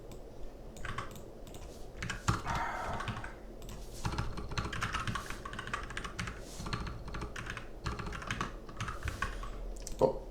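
Steady typing on a computer keyboard during a coding session, with a dense run of clicking keystrokes and a few louder key hits, close and continuous for about ten seconds.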